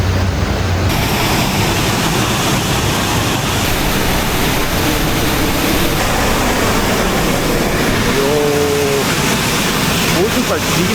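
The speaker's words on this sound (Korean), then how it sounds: "폭포가 도로 옆에 있네." A roadside waterfall in Costa Rica, swollen after heavy rain, gives off a loud, unbroken rushing roar, while a person speaks briefly over the constant noise.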